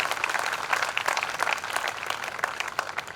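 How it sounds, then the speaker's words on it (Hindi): Loud, sustained applause from an audience at a student felicitation ceremony as a student named Saroj is called up to the stage, dense clapping throughout with no talk. "जोरदार तालियां भाई सरोज के लिए"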